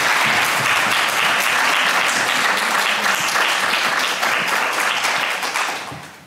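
Audience applause for artist Liliana Porter at an evening talk, a sustained dense clapping from a large crowd that holds steady and then begins to taper off near the end.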